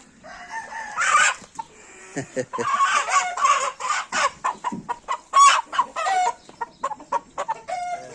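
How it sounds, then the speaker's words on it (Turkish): Breeding roosters in a garden crow and cluck in loud, close, irregular bursts, overlapping calls coming one after another with brief gaps between them. "şimdi şu bahçede göreceğin damızlık horozumuzun"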